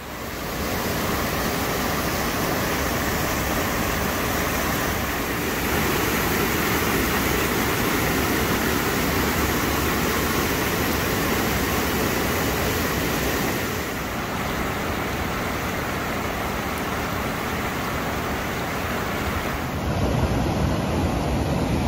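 Steady, dense roar of the high-running waterfall at Tim's Falls in Algonquin, a constant broadband rush of water that holds level throughout with no voices.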